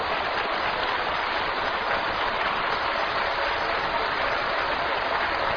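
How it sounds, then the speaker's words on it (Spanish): Dense, continuous applause from a large church congregation, a steady wash of clapping that stays even and loud throughout with no voices standing out. "Vamos a darle un fuerte aplauso a Jesucristo."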